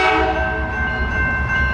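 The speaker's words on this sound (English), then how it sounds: "This is a Windsor local train that comes from Windsor to Detroit, Michigan for the Oakwood Yard in Detroit." A freight train at Delray Junction in Detroit sounds a loud, sustained horn nearby while its cars rumble past underneath.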